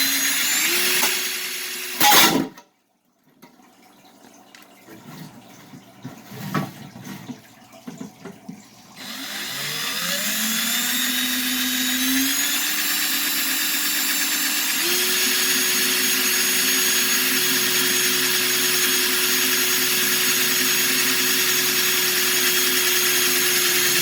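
A power drill bores holes in a plastic aquarium filter: handling clatter and short stop-start bursts, then the motor whines up in pitch and runs steadily, loud and close, until the end.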